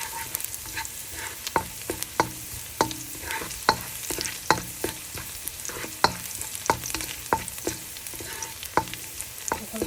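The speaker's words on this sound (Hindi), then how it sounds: "थोड़ा सा पानी डाल ऑयल डाल के ना, तो थोड़ा सा सौते कर लेंगे हम अपने जो है लहसुन को अच्छे से" Garlic sautéing in oil in a pan on the stove, a steady sizzle under regular clacking strokes of a utensil stirring and scraping, close and moderately loud.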